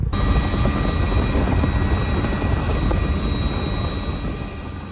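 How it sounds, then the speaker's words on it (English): A helicopter in Hawaii runs loud and steady nearby, a dense broadband engine and rotor roar that holds level for the whole stretch and eases off slightly toward the end. "we are about to ride this helicopter."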